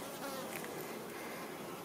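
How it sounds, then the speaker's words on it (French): Faint, continuous buzzing hum of honeybees swarming around a hive frame during beekeeping, a steady insect drone with no talk. "Alors, on va virer les abeilles."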